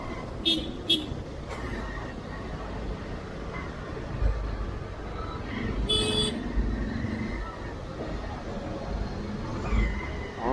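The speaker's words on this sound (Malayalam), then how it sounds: "ട്രാഫിക് തുടങ്ങി." Morning road traffic in a town in Kerala, heard from a moving bike: a steady engine and road rumble with several short horn toots, the first two close together near the start, and a louder one midway.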